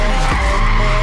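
Tires skidding as a car drifts sideways in a racing video game, a sustained loud squealing screech, close and continuous over engine noise.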